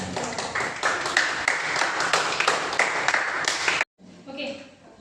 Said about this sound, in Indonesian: Kasih tepuk tangan buat kelompok lain.